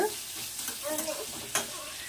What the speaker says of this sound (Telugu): కట్ చేసుకున్న ఆనియన్స్ వేద్దామండి. మధ్య మధ్యలో కలపాలండి.